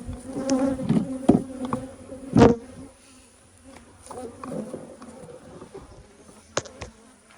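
Honeybees buzzing around a hive, with a steady insect hum broken by loud bursts as individual bees fly close past, then fading toward the end.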